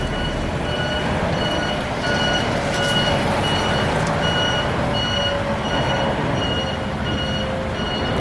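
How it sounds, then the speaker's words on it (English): Big coach bus at a rural Taiwanese bus station, a loud steady engine rumble with a regular repeating reversing beep sounding over it throughout. "Here's a big coach bus."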